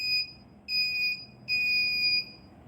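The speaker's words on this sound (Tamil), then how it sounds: "இப்போ ஐஆர் சென்சார் ஏதாவது ஆப்ஸ்டக்கிளை டிடெக்ட் பண்ணுச்சுன்னா நம்மளுக்கு சவுண்ட் அவுட்புட்டாக வரும்" Buzzer on a homemade robot triggered by its IR obstacle sensor, sounding three shrill electronic beeps, the first short and the next two longer, close and clear with no talk.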